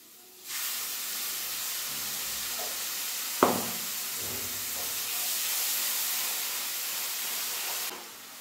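Water splashes into a hot pan of chicken kosha being cooked, producing a loud, steady hiss and sizzle of steam that lasts several seconds, with a brief clatter partway through.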